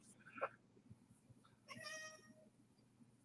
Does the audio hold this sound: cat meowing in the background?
yes